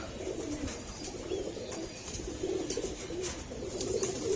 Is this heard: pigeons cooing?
yes